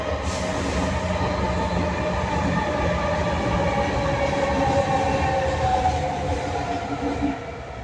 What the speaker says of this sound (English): Train passed